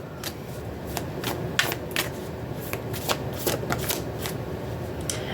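A deck of tarot cards is shuffled close by in rapid, crisp riffling bursts with quick flicks and short pauses between them, set against a soft hiss of background noise.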